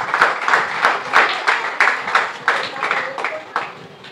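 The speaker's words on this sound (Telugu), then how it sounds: "చప్పట్లు కొట్టండి ఒకసారి" An audience claps in rhythmic unison, roughly three or four claps per second, loud and close, with faint voices underneath.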